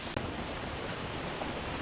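Waterfall on a backpacking trail to Cliff Raven Falls, a dense, steady rush of falling water filling the whole moment, loud and close with no voices.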